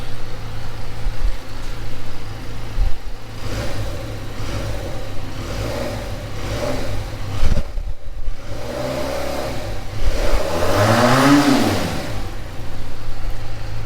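A 2021 Benelli 302R motorcycle engine revs close by, with several throttle blips rising and falling over a steady idle and one longer swelling rev near the end, and no speech.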